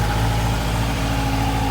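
Kawasaki 1000 ATV engine with 76,000 miles, running smoothly at a steady idle, with a constant low hum and even tone that carries alone throughout.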